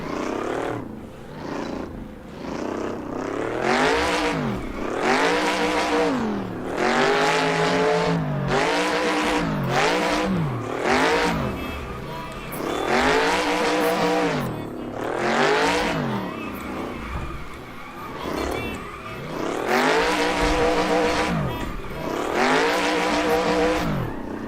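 A car drifting and braking in Assetto Corsa, its engine revving up and down in rapid repeated sweeps with tire squeal and skidding, loud and continuous throughout.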